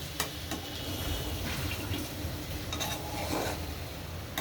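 Potatoes being stirred in a cooking pot, a steady scraping and sizzling texture with soft intermittent clinks of the utensil against the pot, close and continuous, without any talking.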